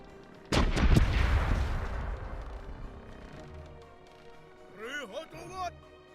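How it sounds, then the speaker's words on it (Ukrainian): A single heavy cannon boom in the video game Corsairs Legacy rings out close and loud, then rolls into a long fading rumble, followed by some faint whooshing effects. "Гармати готові до бою! Стріляйте що."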